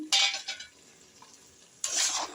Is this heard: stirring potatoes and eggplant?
yes